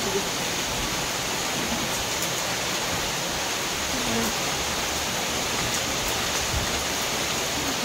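Heavy rain roars steadily, a broad unbroken hiss with a few faint knocks and thuds in the background.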